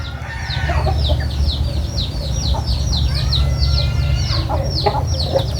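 A flock of chickens clucks near at hand, the hens and chicks giving busy, repeated chattering calls over a steady low hum, continuous and fairly loud throughout.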